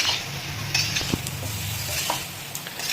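Vegetable curry of papaya, radish and eggplant is stirred with mustard paste in a pan over a low gas flame, giving a soft, steady sizzle with scraping stirs and a few light clinks of the spoon against the pan.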